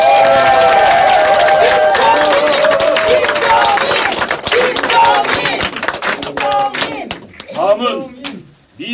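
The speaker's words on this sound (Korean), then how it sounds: "대한민국과 안양의 미래를 제시해 주신 김종인 총괄 선대위원장님께 큰 박수로 환영해 주시기" A crowd at an outdoor Korean political campaign rally applauds to welcome Kim Chong-in, with loud clapping, cheering and chanting voices, then thinning into scattered shouts and talk near the end.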